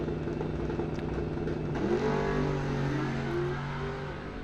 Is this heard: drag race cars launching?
yes